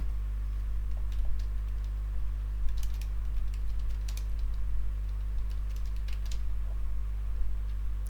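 Light, irregular clicks of typing on a computer keyboard while writing SQL Server commands, sounding fairly close over a strong, steady low electrical hum.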